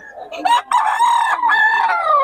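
A young stag gamecock crows once, close and loud, in a drawn-out cock-a-doodle-doo lasting about two seconds.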